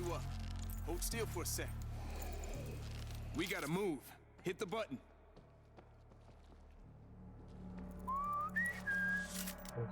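In the video game World War Z, a short rising whistle sounds near the end, after game noise and clattering, while a player talks over it.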